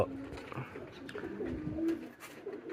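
A pigeon coos close up in a few soft, throaty bursts over light background noise.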